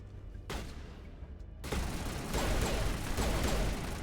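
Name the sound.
turret gunfire in the video game Mass Effect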